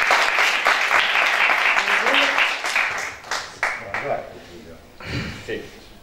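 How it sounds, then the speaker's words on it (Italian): An audience applauds a journalist being introduced at a talk on football and journalism, dense clapping that fades out midway before voices and room noise take over. "Un bel applauso per Giulio."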